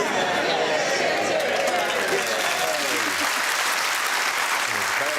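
Studio audience on the QI panel show gives a lukewarm round of applause, steady dense clapping held at an even level for several seconds, with faint voices mixed in underneath.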